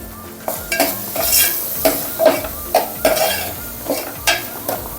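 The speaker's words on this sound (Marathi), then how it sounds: "आणि कलर छान यावा म्हणून काश्मीरी मिरची पावडर आणि हे आता छान परतून घेते" Red chilli and Kashmiri chilli powder masala sautéing in a pan, a continuous sizzle under repeated rhythmic scrapes and clinks of a spoon stirring against the metal, close and fairly loud.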